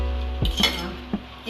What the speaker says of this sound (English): Mix together with the noodles and the vegetable.